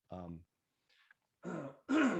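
Close-up throat clearing: a few short, rough bursts after a brief voiced sound, fairly loud and near.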